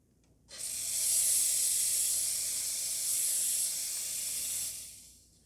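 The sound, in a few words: Anko coffee machine steam wand purging steam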